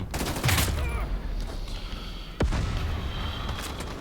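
Rapid bursts of gunfire from a first-person shooter video game, loud and dense with a sharp distinct shot near the middle, continuing steadily throughout.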